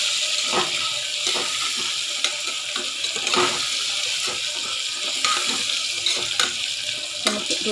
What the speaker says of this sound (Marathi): आपण व्यवस्थित परतून घ्यायचे आहेत।